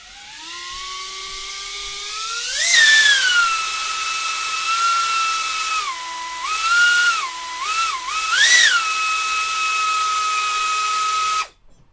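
Drone motors spin up on throttle with a rising electric whine that climbs sharply, then holds a high steady tone that dips and swells several times before cutting off abruptly.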